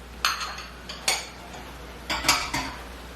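Rendang spices are stirred in a cooking pot, giving a few separate metal scrapes and clinks of the spoon against the pot, spaced out and fairly quiet, with no one talking.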